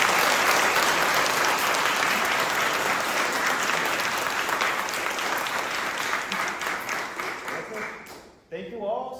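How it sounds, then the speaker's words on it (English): Sustained applause from a sizable theatre audience at a play premiere, steady and full for several seconds before tapering off as a voice begins speaking. "Also a round of applause."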